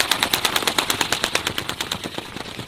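Remote-controlled toy bird taking off, its wings producing a fast, steady train of sharp flapping clicks with an even rhythm, close and fairly loud throughout.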